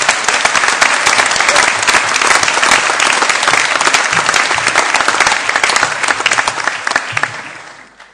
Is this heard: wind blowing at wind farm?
no